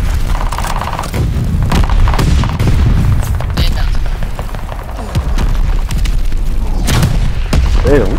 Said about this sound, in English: Toss the stun grenade!